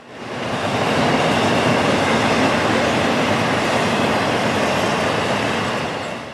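A roughly 12,000-foot intermodal freight train, IO31, rumbles past up close, a loud steady roar of wheels and cars swelling in and holding without a break.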